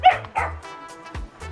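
A dog barks in several sharp yips and woofs, loud and close, with whimpering tones between the barks.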